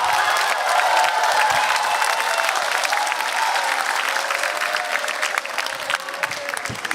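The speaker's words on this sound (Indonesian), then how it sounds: "Tepuk tangan buat Bonar dan Ilham." A television comedy show's studio audience applauds a comedy duo, loud dense clapping with a touch of cheering that runs steadily and thins slightly toward the end.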